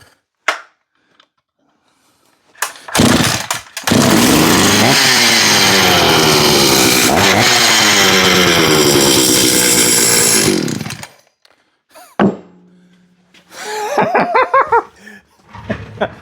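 An Echo 670 chainsaw with its choke engaged pops on a few pulls, then roars into a loud, steady run for about seven seconds before cutting out, followed by sputtering restart attempts.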